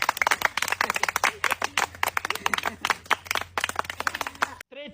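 A group claps for a boy in quick, uneven bursts of close hand claps, with voices talking and calling out over the clapping.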